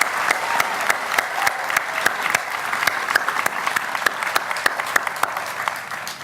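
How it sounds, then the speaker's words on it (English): Outdoor crowd at a Memorial Day gathering giving a round of applause, steady dense clapping with sharp individual claps standing out throughout. "I would like to have you join me in a round of applause for Bob Burns"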